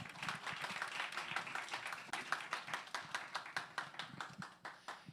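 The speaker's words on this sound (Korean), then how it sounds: "박수로 한번 환영하도록 하겠습니다." An audience claps at a church Bible college lecture to welcome a pastor to the stage, with distinct rhythmic hand claps that grow more spaced and regular toward the end; no talking over it.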